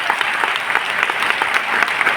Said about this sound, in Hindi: एक बार अपने लिए जोरदार तालियां होनी चाहिए